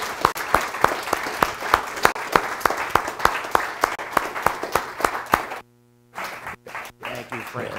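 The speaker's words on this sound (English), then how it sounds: "A round of applause for George." Audience applause after a First Monday lecture at Pendle Hill, with distinct, fairly sparse claps at a steady rhythm from a modest crowd, cutting briefly to silence before resuming more quietly.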